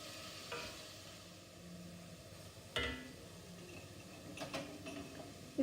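Chicken breast stirred in a hot pan, with a soft, steady sizzle and a few sharp scrapes and clicks of the spoon against the pan, close by and without speech.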